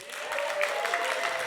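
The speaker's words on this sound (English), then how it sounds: "Let's get a round of applause for my helper Trey over here." Audience applause for a helper named Trey at a live music performance at The Sanctuary for Independent Media, a steady wash of clapping that holds at an even level for the whole stretch.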